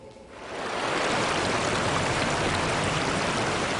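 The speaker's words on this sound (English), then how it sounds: "News Channel 9's Lindsay Rachel takes us to the river to show us despite low water levels, there are still rewards to find" Salmon River in Pulaski, New York running at low water, a steady broadband rush of flowing current that swells up within the first half second and then holds loud and even with no voices.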